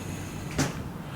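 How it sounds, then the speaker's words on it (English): A door in a Tbilisi apartment swings shut with a single short thud, close and brief against a steady room hum. "Close the door"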